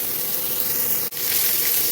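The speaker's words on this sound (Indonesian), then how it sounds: "Ini jahe akan aku tumis hingga wangi dulu." Ginger slices stir-fry in hot oil in a wok, giving a continuous, close, airy sizzling hiss that briefly drops out once before resuming.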